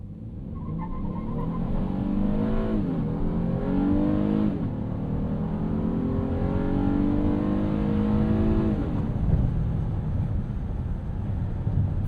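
A 2026 Honda Odyssey minivan with a 3.5L VTEC engine accelerates hard from a stop. The engine note climbs loudly and steadily, and rises again after each gear change, with a constant droning roar throughout.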